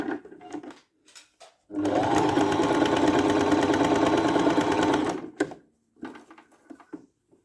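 A Singer 1408 sewing machine stitches in one steady, loud run of about three and a half seconds, a fast mechanical whir with rapid needle clatter, framed by quieter handling clicks and thumps before and after.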